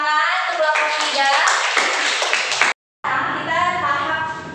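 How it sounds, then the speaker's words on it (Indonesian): A class applauds a student group in a school science lesson, a steady broad patter of many hands clapping continuously with a brief gap, then resuming, with voices mixed in. "Tepuk tangan untuk kelompok 3."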